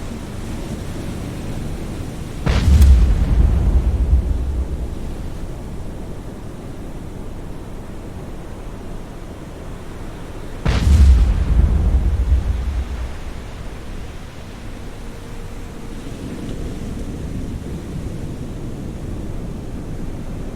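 Two VLS missile launches from a warship in the naval combat game Cold Waters: each a sudden deep, booming whoosh that swells and slowly fades into steady ocean-like rushing noise, spaced several seconds apart.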